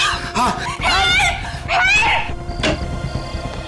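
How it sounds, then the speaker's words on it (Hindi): Frantic screams and cries for help come from inside a bungalow in a crime drama, several wavering, pitch-bending calls overlapping in quick loud bursts before fading into a thin tone. "और ये आवाजें वहां से क्यों आ रही है चिल्लाने की?"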